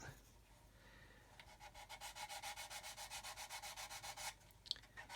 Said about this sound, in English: Or I can do some more sanding and just sand that.